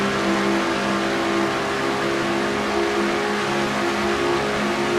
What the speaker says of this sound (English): As now her and Trent Dunham go up the track in car number 1